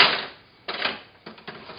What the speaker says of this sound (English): A nice little utility knife.